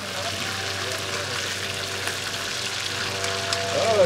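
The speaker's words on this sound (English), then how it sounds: "Simon is frying fish, man." Steady broadband sizzle and crackle of barracuda frying in hot oil, continuous and close, with faint voices in the background.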